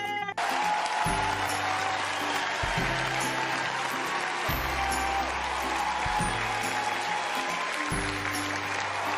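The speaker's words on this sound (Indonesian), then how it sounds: "tepuk tangan buat kita semuanya" Applause at a lively Indonesian maths lesson, bursts of clapping sustained for several seconds over a busy, loud backdrop with rhythmic low thumps.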